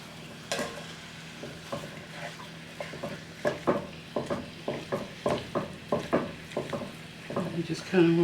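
Shepherd's pie ingredients stirred together in a pan, a close run of regular scraping, clinking strokes with a light sizzle underneath, growing a bit louder toward the end.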